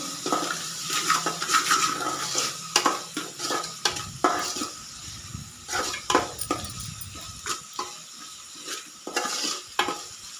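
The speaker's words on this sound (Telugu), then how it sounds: "పసుపు వేసుకొని ఆ పచ్చివాసన పోయేంత వరకు ఫ్రై చేసుకోవాలి ఆయిల్లో" Turmeric frying in hot oil for a tomato and ivy gourd curry, with a steady close sizzle broken by repeated scraping stir strokes against the pan; no voices.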